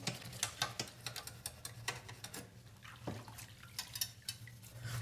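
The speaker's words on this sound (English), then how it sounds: "We rinse down the instrument." Rinse water splashes and drips over a wind instrument during cleaning, with irregular sharp splashes and clinks over a low steady hum, fairly faint.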